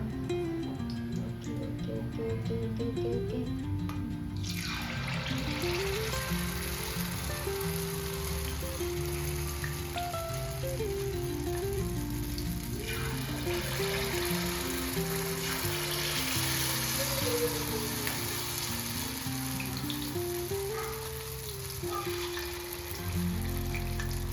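Unniyappam batter poured into hot oil in an appam pan, the frying swelling into a loud, steady crackling sizzle that carries on for about twenty seconds, with no one talking.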